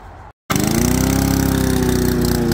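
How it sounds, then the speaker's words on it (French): A gas lawn mower engine catches after a brief pause and settles into a loud, steady running drone close by, used for clearing overgrown brush. "On va mettre un petit coup de tondeuse là."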